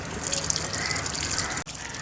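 Tap water pours steadily into the tub of a semi-automatic washing machine, a constant close hiss and gush that cuts off briefly near the end.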